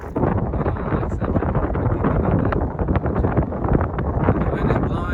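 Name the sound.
wind blowing on a hilltop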